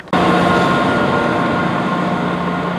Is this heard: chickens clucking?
no